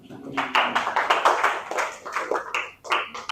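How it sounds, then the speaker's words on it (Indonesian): A school class of pupils claps during a lesson, bursts of hand claps rising and falling in uneven waves over a few seconds, with voices mixed in. "tepuk tangan semua"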